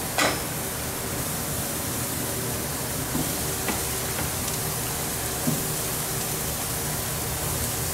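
Bigboost burgers sizzle steadily in a hot pan, a dense continuous frying hiss with a few small pops and crackles, close and loud with no talking.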